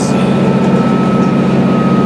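A freight train passing on a rail line near Chinley, a loud continuous rumble with a steady high tone, close by and without voices.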